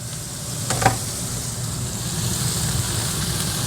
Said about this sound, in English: we're going to be adding these sun-dried tomatoes in with a bit of that oil and a bit of that garlic.